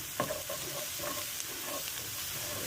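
Collard greens and cabbage stirred in a hot pan, a close, steady sizzle of frying with scraping stir strokes recurring every fraction of a second, no voices.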